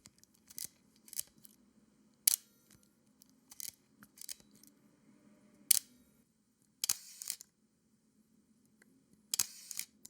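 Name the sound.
Leica M8 camera shutter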